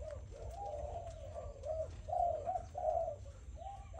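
Malaysian zebra doves of the DC 30 breeding line coo in a steady run of soft, rolling notes, several phrases swelling louder near the end over a low background rumble.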